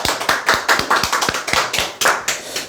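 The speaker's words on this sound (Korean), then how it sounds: "박수 한번 치십시오." A small group claps in an irregular, moderately close burst for a couple of seconds, with distinct sharp hand slaps and no voices.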